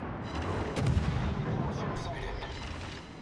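Heavy naval gunfire from a destroyer in World of Warships, deep booming blasts with a strong low rumble that swell near the start and then trail off under steady battle noise.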